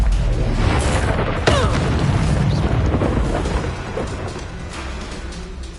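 A Confringo fire spell detonating in Hogwarts Legacy: a deep booming blast with a sharp crack about a second and a half in, then a sustained rumbling roar of fire and debris, loud and continuous with no speech.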